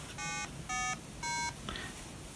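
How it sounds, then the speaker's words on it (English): Three clean electronic beeps in a steady rhythm from a Korg Monotron analog synthesizer, each a bright tone with stacked harmonics, followed by a softer, shorter fourth blip. "this little nice monotron synthesizer. It makes beeping noises,"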